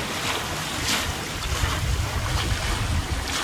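A sailboat's motor hums low and steady beneath the rush of wind and splashing water while motoring on a reach, with no one speaking.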